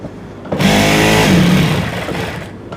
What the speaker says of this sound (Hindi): इलास्टिक को खींचते जाएंगे ऐसे और सिलाई लगाते जाएंगे।